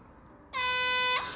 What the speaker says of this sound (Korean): 그럴 때 이런 삑삑이라고 부르는 이제 부저가 있어요.